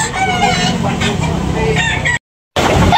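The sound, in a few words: rooster crowing at chicken market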